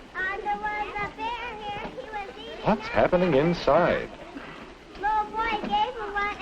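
A noisy school classroom full of children talking at once, with overlapping young voices and bursts of chatter filling the room at close range, while one voice speaks clearly above the din.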